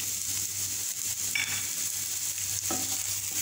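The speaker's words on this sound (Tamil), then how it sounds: "வெங்காயம் நல்லா வதங்கட்டும்." Chopped onion and garlic sauté in a pan for a tomato greens soup, a steady close sizzle with occasional soft stirring scrapes.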